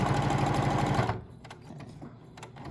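Sewing machine stitching a small fabric wallet, a steady fast mechanical whir for about a second that then stops, leaving quiet room tone with faint handling clicks.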